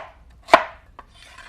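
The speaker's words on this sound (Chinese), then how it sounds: "切成片" A knife cuts through a peeled sweet potato on a board, giving one sharp close chop followed by a lighter tap, with near silence around them.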